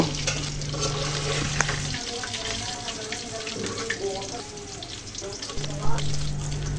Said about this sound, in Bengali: এখন ভাজা মাছগুলোকে উঠিয়ে নেব